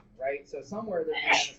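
A single sneeze from someone in a high school math classroom, brief and fairly close, coming right as a teacher finishes talking.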